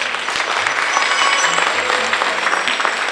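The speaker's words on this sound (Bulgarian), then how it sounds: "Аплодисменти още веднъж за тях." An audience at a Balkan folk music championship in Shumen applauds folk performers, including a bagpipe player, with dense, sustained clapping from a close crowd.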